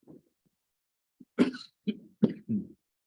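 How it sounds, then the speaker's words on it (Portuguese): A few dry coughs in quick succession, close and fairly quiet, with short pauses between them. "eu vou ficar tossindo aqui o tempo todo"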